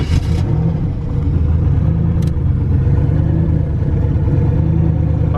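A turbocharged LS-swapped Mazda RX-7 street car drives along with a loud, steady mid-range engine drone and rumble, heard continuously from nearby with slight swells in intensity.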